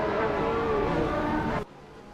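Race cars on a grid at Donington Park, including a 1996 Porsche 911 GT1 on pole, give a loud, dense engine roar that cuts off abruptly near the end.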